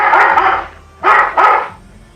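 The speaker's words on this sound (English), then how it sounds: "There, the dogs are barking." Dogs barking in a video game, three loud close barks, the first drawn out, then a pause and two quick barks in succession, heard alone without speech.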